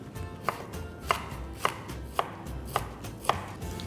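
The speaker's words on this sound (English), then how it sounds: "and now we need to cut some cabbage" Knife chopping cabbage on a cutting board, six crisp, evenly spaced strokes about half a second apart, close and clear over a faint background hum with no talk.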